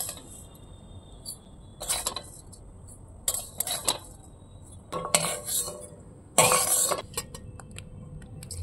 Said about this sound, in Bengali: তো আমি সিমুইটাকে এনে কড়াই থেকে তুলে নিচ্ছি।